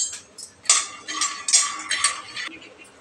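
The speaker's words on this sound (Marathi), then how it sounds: "आपण पहिल्यांदा शेंगदाणे भाजून घेऊया" Peanuts being dry-roasted in a pan on a gas stove, a few bursts of rattling, clinking contact against metal, close and moderately loud with short pauses between.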